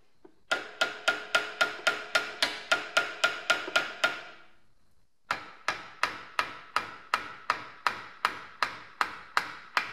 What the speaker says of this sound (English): Like all proper men, I resorted to a hammer.